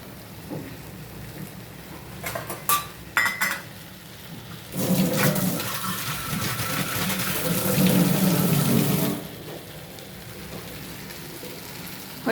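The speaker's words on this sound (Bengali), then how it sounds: "আমি এটা একটু জল দিয়ে অ্যাড করেছি, জল দিয়ে দিলাম।" Water pours into simmering gravy in a cooking pot, a steady splashing rush lasting several seconds before stopping, after a few brief clinks, with no voices.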